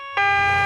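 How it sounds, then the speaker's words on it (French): A cartoon ambulance siren tone starts abruptly and holds steady, loud and close, for a brief moment. "Est-ce que les ambulances font ni non"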